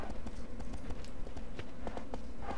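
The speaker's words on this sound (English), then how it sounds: "Yes, you can actually stand on your horse and ride." Horse hooves gallop in the video game Shadow of the Colossus, a fast, steady clip-clop that runs loud and close the whole way through over game ambience.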